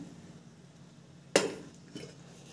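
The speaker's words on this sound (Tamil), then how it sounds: "இதுக்கு வந்து பார்த்திங்கன்னா நம்ம வந்து பேன் வச்சுருக்கோம்" A metal pan for avalakki upma is set down on a stove with one sharp clank, followed by a softer knock, in an otherwise quiet kitchen.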